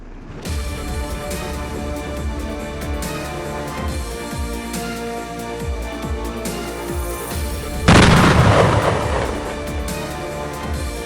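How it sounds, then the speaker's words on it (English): A gas cylinder explosion in Haiphong, Vietnam: a sudden loud blast bursts out over steady low background noise, then slowly fades into a rumbling tail. "A sudden gas cylinder explosion shook Haiphong, Vietnam on October 4th."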